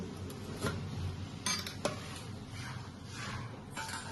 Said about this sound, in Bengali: এবার ঢাকনাটা আমি লাগিয়ে দিচ্ছি